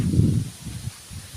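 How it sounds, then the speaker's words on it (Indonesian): A gentle breeze blows through Cibonceret, a quiet remote village beside rice fields. The wind gives a low, soft rumble that swells and eases in light gusts, close to the microphone, with no voices. "Angin semilir, sahabat ya."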